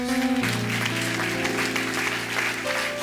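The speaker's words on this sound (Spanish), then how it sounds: "dale ese aplauso a Jesús" Congregation at a church sermon bursts into applause, a full steady clapping that continues over sustained organ or keyboard tones, with a voice briefly heard at the start.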